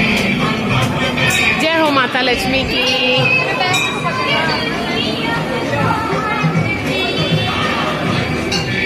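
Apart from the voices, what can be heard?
crowd babble at Lakshmi puja gathering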